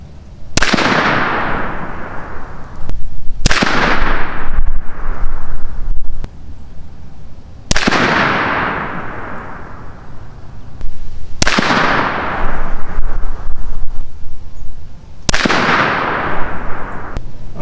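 Five sharp, loud rifle shots fired downrange at a 100-yard benchrest target, spaced a few seconds apart, each cracking and then trailing off into a decaying echo.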